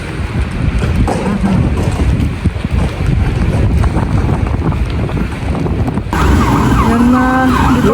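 Strong wind buffets the microphone throughout in Bristol, a steady low roar with gusty rumble, joined near the end by a louder burst of noise and faint voices.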